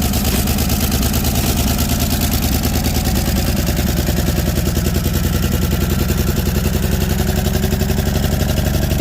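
A loud, rough engine of a long-abandoned 1961 Chevy Biscayne idles steadily nearby, its lumpy rhythmic chugging continuous throughout with no pauses.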